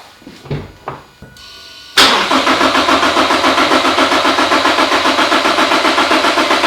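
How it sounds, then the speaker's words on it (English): A car engine cranking with fuel injection switched off: a few clicks and thumps, then a steady, loud rhythmic starter churn with regular compression pulses that never catches or fires, alone without talk. "I have turned off fuel injection to the engine on my scan tool"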